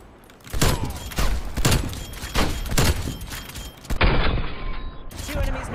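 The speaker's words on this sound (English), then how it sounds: "Enemy sniper shooting." An enemy sniper fires in Black Ops Cold War, a rapid series of loud, sharp rifle cracks each trailing into a short rumble, repeated roughly every half second over several seconds.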